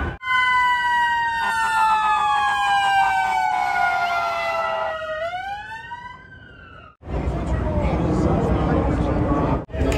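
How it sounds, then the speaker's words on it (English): A loud wailing ambulance siren sweeps up and down in pitch, then cuts off abruptly and gives way to noisy crowd and street sounds outside Super Bowl 56 in Inglewood, California. "Ambulance here already in case something happened."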